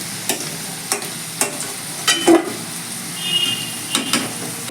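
A katla fish head frying in hot oil in a pan, with a low background sizzle broken by sharp, evenly spaced scrapes and knocks of a spatula turning it, close and fairly loud with no voices.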